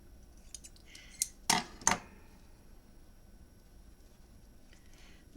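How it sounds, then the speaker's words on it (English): Fabric scissors snip through memory book paper in a few sharp, quick cuts, two louder snips close together near the middle, otherwise a quiet room. "My fabric scissors have finally become paper scissors."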